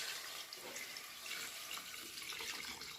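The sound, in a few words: water being added to a cooking pot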